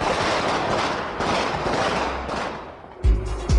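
Fireworks go off at a religious procession in Quito, Ecuador, with two sharp close bangs near the end over a broad, noisy crowd-like wash.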